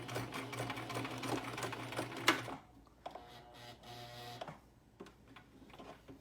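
Sewing machine stitching a fabric face mask, a close rapid mechanical whir for a couple of seconds, then slower intermittent runs and stops.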